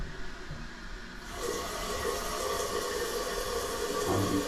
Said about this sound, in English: that water spraying directly down into the bowl